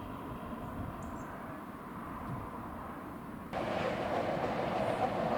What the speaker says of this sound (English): we see a double fairlie crossing the Cobb